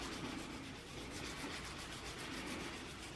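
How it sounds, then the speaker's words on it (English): A sanding block is rubbed back and forth over a scratch in car paint, a soft, faint, steady scraping with an even repeating rhythm. "you'll want to have like a sanding block and go sand it a little bit"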